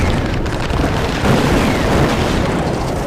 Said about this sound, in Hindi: ग्रेनेड फेंको जल्दी से।